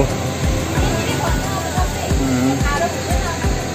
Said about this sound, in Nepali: यो तल चाहिँ टिस्टा खोला हो एकदम बढेको छ